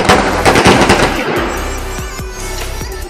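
Rapid strings of firecrackers crackle and pop in dense bursts, loud and continuous, during a Ram temple consecration celebration, with a few heavier bangs near the end.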